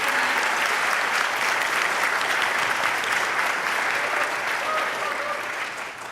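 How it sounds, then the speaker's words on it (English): An audience at a school academic awards night applauds the silver qualifiers, a full, continuous wash of clapping that holds steady and then gradually fades toward the end. "So an applause."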